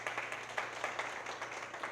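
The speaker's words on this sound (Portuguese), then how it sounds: "Dê uma salva de palmas a Ele." Congregation clapping during a family church service: a fairly faint, rhythmic group clapping with regular beats, heard over a low steady hum.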